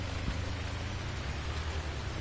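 Steady rain falls across the whole stretch in Farming Simulator 19, a dense, even hiss with a low rumbling undertone, constant and fairly loud with no voices over it.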